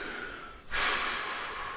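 A single sharp, breathy inhale from a vape drawing e-liquid straight to the lungs, close and fairly quiet, starting abruptly after a short near-silent lead-in and holding as a steady airy rush.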